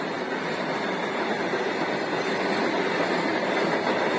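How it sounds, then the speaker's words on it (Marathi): A runaway freight train with no guard aboard races along the rails at 70 to 80 km/h, making a steady, loud rumble and rattle of wagons and wheels with no pauses or voices. "70 ते 80 किलोमीटर वेगानं ही मालगाडी पुढे धावतीये।"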